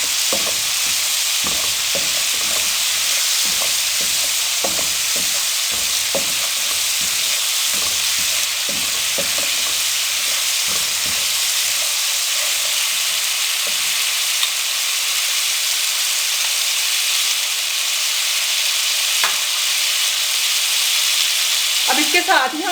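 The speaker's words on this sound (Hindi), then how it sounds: "अब इसको हम 1 से 2 मिनट के लिए अच्छे से फ्राई कर लेंगे" Spice masala frying in a pan for fried chana chaat, a steady close sizzle with scattered stirring scrapes through the first half, then a smoother hiss, with no talk.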